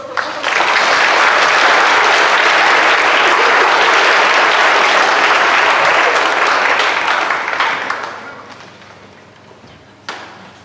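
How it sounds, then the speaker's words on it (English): An audience applauds children at the KCJS 2023 poetry finals, a loud, dense wash of clapping that holds for several seconds, then thins out and fades, leaving a few last claps. "So if we could give them all a round of applause for all of them."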